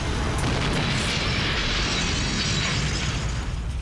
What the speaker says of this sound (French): Une violente explosion s'est produite et son souffle a projeté les pompiers à plusieurs mètres sur le trottoir.